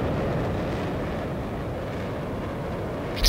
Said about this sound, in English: It also has afterburners, pretty weird ones, you can only hear them.